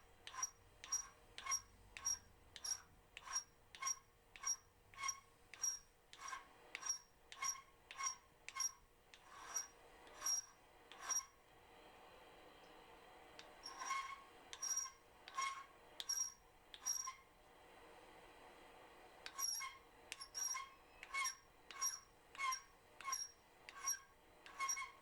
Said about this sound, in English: So here with the square punch, I'm just filing off the top so it can get a nice flat.